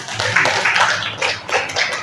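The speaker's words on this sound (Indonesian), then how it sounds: "Jawabannya tepuk tangan" Classroom applause from a group of students, a short burst of brisk hand clapping that rises and falls in a few quick waves, close and fairly loud.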